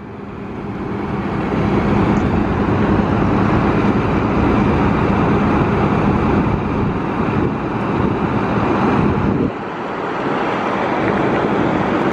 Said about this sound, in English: So windy out here today.